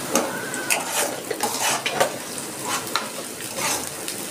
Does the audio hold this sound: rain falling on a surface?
no